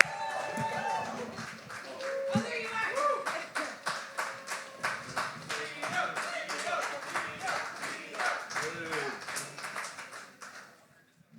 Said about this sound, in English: Please give a big round of applause for Tio.